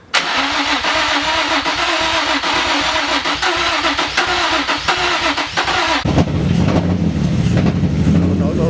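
A crashed Nissan 350Z engine cranks and then catches, running loud and rough with an uneven, struggling idle, up close with no talking.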